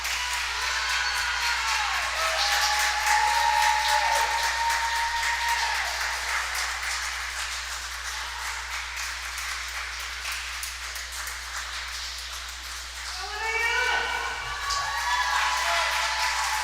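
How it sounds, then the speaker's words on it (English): Crowd at a youth swim team intrasquad meet cheers and applauds steadily as a freestyle swimmer heads home, with whistles and shouts rising over the clapping and a louder swell near the end. "You can hear the crowd going crazy."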